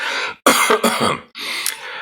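A man coughs up close, three harsh rough bursts in quick succession with short gaps, loud and alone without talk.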